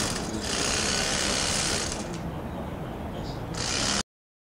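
A power driver drives hexagonal screws into a wood pergola's knee joint, giving a loud, steady mechanical whir that drops briefly in the middle and then resumes before cutting off.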